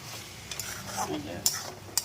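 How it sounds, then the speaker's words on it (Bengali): A spoon stirs prawn head curry in a pot with soft scraping and light sizzling, punctuated by two sharp clinks against the metal near the end. "এটাকে একটুখানি নাড়িয়ে দিচ্ছি একটু মিক্স করে দিচ্ছি"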